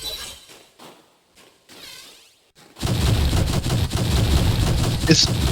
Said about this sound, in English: shoot your Volt Driver a little bit slower